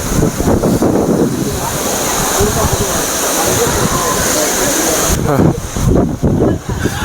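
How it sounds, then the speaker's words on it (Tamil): A loud, constant roar of the Agaya Gangai waterfall in the Kolli Hills fills the scene, rushing and close, with faint voices now and then. "ஆ நம்ம அருவிக்கு வந்துட்டோங்க"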